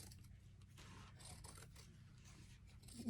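Scissors cut through denim jeans close to the seam while deconstructing them for upcycling, a faint, steady run of crisp snipping and rasping strokes heard up close without speech.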